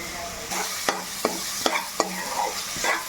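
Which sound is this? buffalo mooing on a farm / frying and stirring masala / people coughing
frying and stirring masala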